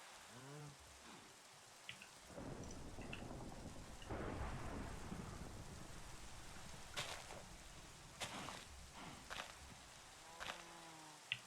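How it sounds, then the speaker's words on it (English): Steady rainfall in a modded Minecraft 1.12.2 world, a soft constant hiss of rain with occasional sharper crackles and low rumbles scattered through, faint and without speech. "And it's raining, which means I couldn't check the skies even if I wanted to."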